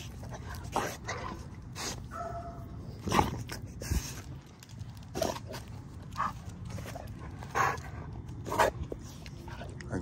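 Dogs whimper, yip and give short barks in scattered bursts at close range, with panting between them and a person's voice briefly in the background.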